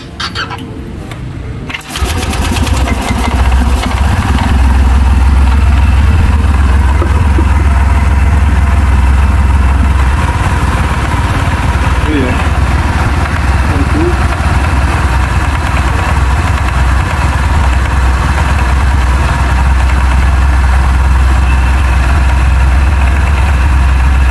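A motor scooter fitted with a custom pulley and double clutch bell kicks into life after a brief starter burst, then settles into a steady, loud idle with low rumble and continuous vibration, no talk over it.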